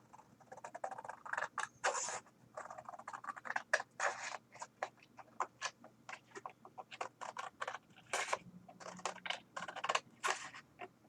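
Scissors snip paper for a handmade Christmas tree shadow box, giving a run of quick, close, crisp cuts in irregular bursts with short pauses, over faint background hum.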